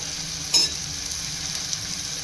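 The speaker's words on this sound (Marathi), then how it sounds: "आणि मीठ हे छान आपण तेल सुटेपर्यंत परतून घेऊया" Chopped tomatoes with turmeric, red chili powder and salt sauté in oil alongside peas, producing a brief, steady close sizzle with one quick stir near the start.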